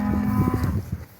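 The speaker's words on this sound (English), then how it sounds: "So I had the cattle, as you can see them there" Cattle outwintering in an Irish field after a storm, mooing up close: one loud, drawn-out low moo, clear and alone with no talk.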